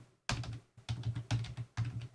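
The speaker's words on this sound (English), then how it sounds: "You can also move a note by using the arrow keys on your keyboard." Computer keyboard arrow keys pressed in four separate clusters of quick clicky taps, each burst a short run of keystrokes with brief pauses between, close and fairly quiet with no talking.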